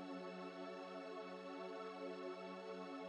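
Old-school string sample layer for house music, a sustained, steady synthetic string pad holding a rich chord with even loudness throughout, no talking.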